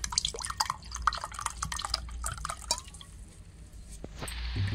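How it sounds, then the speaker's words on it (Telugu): Water poured into a mixture of rice bran oil and food gives a run of close wet drips and splashes, busy at first and then settling into a quieter trickle. "కొద్దిగా వాటర్ అనేది యాడ్ చేస్తున్నాను."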